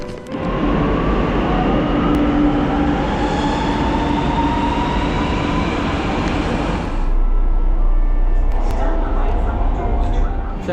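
Lucknow metro train in motion, a steady loud rumble of wheels and carriage noise with a shift in tone partway through, and faint voices under the din.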